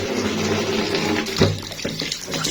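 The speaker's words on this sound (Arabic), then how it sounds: "نكب الميه دي اصلا، ونفتح بقى عليهم الميه كده" Tap water runs steadily into a sink over raw chickens being washed, a close continuous splashing stream with a brief knock of handling midway and no talking.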